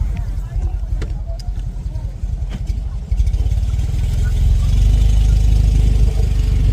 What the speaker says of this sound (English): This is an iconic vehicle from the 1960, the Fiat 500.